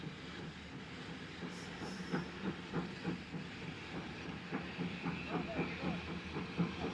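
A passenger train at a station in Esquel, Argentina, having its last wagons coupled on, with steady hiss and repeated rhythmic clanks, while a crowd murmurs nearby and a voice speaks.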